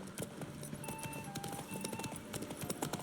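A horse gallops in The Witcher 3 during a race, its rapid clip-clop hoofbeats steady and dense throughout with faint jingling tack, moderately quiet and continuous.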